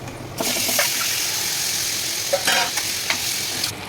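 Eggs fry in oil seasoned with salt and chilli powder for an egg masala, a loud continuous close sizzle with a few sharp scraping and stirring knocks, no one talking.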